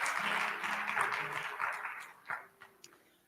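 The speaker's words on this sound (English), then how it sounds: "Can we get another round of applause," A crowd claps in a dense burst of applause that thins out into scattered, fading claps.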